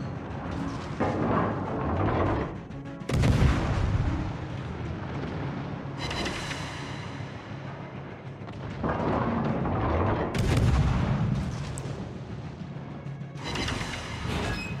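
Heavy warship gun salvos in World of Warships, several deep booming blasts spaced a few seconds apart with long rumbling tails, loud and close.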